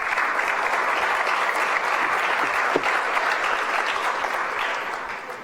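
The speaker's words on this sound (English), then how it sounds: "they deserve a round of applause as well" An audience at an awards ceremony breaks into sustained applause, a dense, even wash of clapping from many hands that holds steady for several seconds and then tapers slightly near the end.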